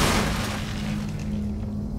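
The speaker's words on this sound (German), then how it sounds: "Ich würde eigentlich gerne mal hier einen Schuss absetzen." A single gunshot in the video game In Sound Mind, a loud boom at the very start that decays into a low, steady rumble and ambient hum with no talking.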